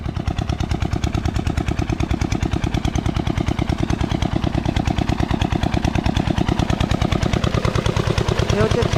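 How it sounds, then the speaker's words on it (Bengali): An engine-driven pump runs steadily while watering a farm field in a remote village, its loud, rapid, evenly pulsing chug continuing without a break from start to end, close by. "এখানে দেখুন মেশিনের মাধ্যমে কিন্তু জল দেওয়া চলছে"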